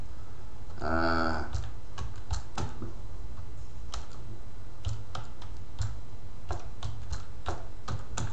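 Typing an email address on a computer keyboard: a steady run of close, crisp keystroke clicks in uneven bursts, with a brief tonal sound near the start.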